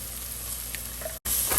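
Chopped onions frying in a pan with garlic sizzle steadily up close while being stirred, the hiss cutting out briefly for a moment before resuming.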